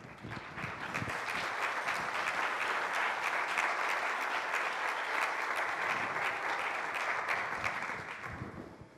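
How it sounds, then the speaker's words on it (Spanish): A lecture audience gives a professor sustained applause at a satellite navigation talk, with steady, close clapping that swells and then tapers off. "Si me permite un aplauso."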